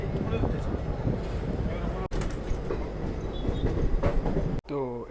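Rumbling, rattling interior noise of the Purulia–Tirunelveli biweekly Superfast Express train running, a steady dense roar with faint clatter throughout and two brief dropouts, with some voices in the background.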